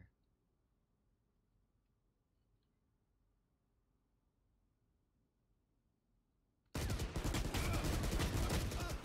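Gunfire in the video game Valorant: near-silence for several seconds, then a sudden, loud, dense burst of rapid shots that runs to the end.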